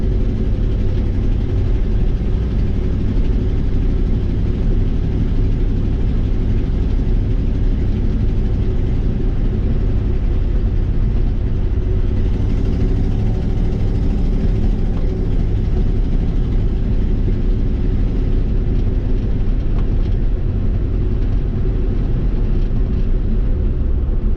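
A 1955 Ford F100 pickup with a swapped-in 302 V8 and automatic transmission runs steadily after sitting all winter, a loud, continuous low rumble close by with no talk.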